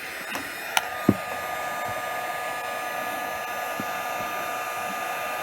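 A heat gun blows steadily while warming an RV skylight during replacement, a constant airy whoosh with a few small clicks and taps over it.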